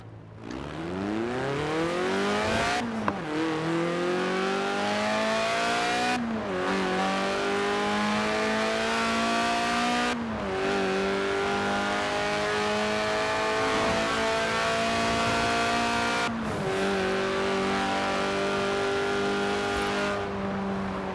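A car engine in Forza Horizon 4 revs up through the gears, its pitch climbing steadily and dropping sharply at each shift, four or five times in a row, loud and continuous with no talking.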